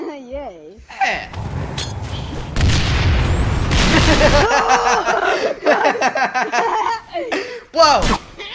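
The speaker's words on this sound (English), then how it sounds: "Plasma grenade." A plasma grenade blows up in Halo Reach, a loud booming blast with a crackling wash lasting a few seconds, set among excited voices and laughter from several players.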